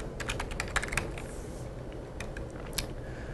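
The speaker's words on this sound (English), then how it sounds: "So I can simply type the title for this page." Typing on a computer keyboard: a quick run of close key clicks, a short pause, then a few more scattered taps, with no talking.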